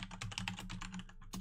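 Rapid, steady typing on a computer keyboard, close and continuous, with dense overlapping key clacks and no talk for the whole short stretch.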